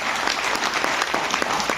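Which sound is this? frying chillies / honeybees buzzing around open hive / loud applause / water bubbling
loud applause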